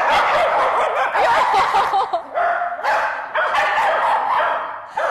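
A three-and-a-half-year-old adopted mixed-breed dog barks loudly and repeatedly nearby, a rapid run of excited barks with brief pauses.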